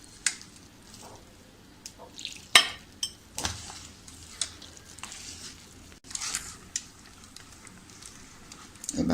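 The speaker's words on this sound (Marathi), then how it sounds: "आपल्याला असं हे पीठ भिजवताना एकाच बाजूने असं छान असं गोलगोल गोलगोल असं फिरून घ्यायचं" Soft scraping and tapping come from besan batter being stirred round in one direction in a bowl, with irregular faint clinks from the utensil against the bowl and no voices.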